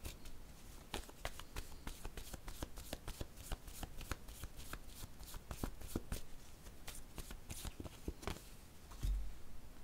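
A deck of playing cards is shuffled repeatedly, crisp riffling bursts and soft slaps in a steady run, close and fairly quiet, with no talking.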